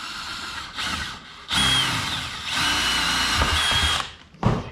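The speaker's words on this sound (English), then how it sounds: "Now we're going to bore a hole in here." A power drill bores a hole in bursts, whirring loudly and close for a second or two at a time with brief pauses between, then cutting off abruptly.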